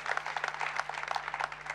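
Church audience applauding, a steady patter of many hands clapping in a continuous, moderately loud stream over a low electrical hum.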